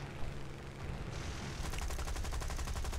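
Spitfire Mk.I machine guns firing in War Thunder, a loud continuous rattling burst of rapid shots that grows denser partway through and carries on steadily to the end.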